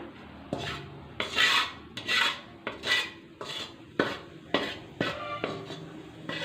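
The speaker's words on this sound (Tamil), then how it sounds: "இப்போ இது நல்லா வறுத்து விட்டுக்கலாம்" Repeated scraping and rattling as dry gooseberries are roasted and stirred around a pan, irregular strokes close up, with no talking.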